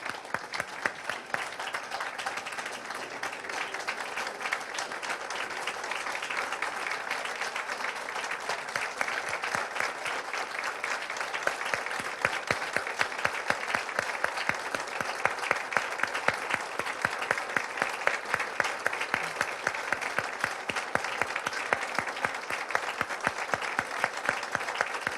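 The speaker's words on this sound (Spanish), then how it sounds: "Les pido a todas y a todos ustedes un minuto de aplausos" An assembly audience at a tribute to Heberto Castillo claps at length, a dense, sustained wash of applause that holds steady and swells slightly for about twenty-five seconds with no let-up.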